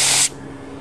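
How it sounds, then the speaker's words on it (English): A paint spray gun set to a narrow fan pattern, used to paint a sheet metal go-kart, gives a loud close hiss of spray for about a quarter second, then cuts off to a quiet background. "So I have it set for fan spray now"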